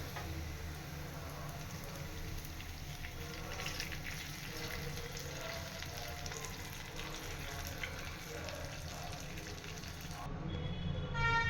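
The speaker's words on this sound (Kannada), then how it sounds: "ಇವಾಗ ನಾನು ಸ್ಟವ್ ಆಫ್ ಮಾಡ್ಕೊಂಡು ಎಳ್ಳಿಕಾಯಿ ರಸ ಹಾಕೋತಾ ಇದ್ದೀನಿ." Citron juice is poured into a pan of fried onions for chitranna with the stove just turned off, giving a continuous soft sizzle and liquid hiss close by, swelling slightly toward the end.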